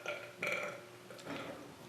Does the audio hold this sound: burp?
yes